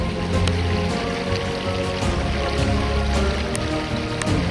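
A river flows past fine sluice tailings from a lead mine in the Welsh hills. The water makes a steady, close, broadband rush with no talk.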